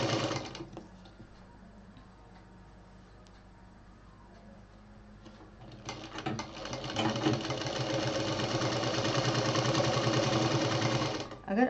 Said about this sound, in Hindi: अब इसको हम पूरा सिल लेंगे।